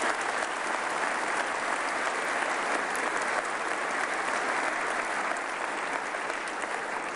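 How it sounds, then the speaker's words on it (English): Sustained, dense applause from a large audience at a state of the state address, an even roar of clapping that holds steady throughout without talk on top. "a big round of applause for all them"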